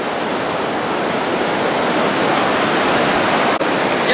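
Steady, loud roar of river rapids, whitewater rushing over rocks on a river in the Subpolar Urals, filling the whole clip, broadband and unbroken, with a brief dip near the end.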